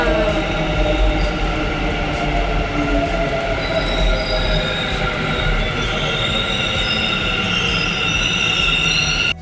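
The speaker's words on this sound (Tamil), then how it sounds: "மெட்ரோ ட்ரெயின் வந்தாச்சு." A metro train pulls into a platform on a foggy day in Bangalore, its wheels squealing in sustained high tones over a loud rolling rumble as it slows.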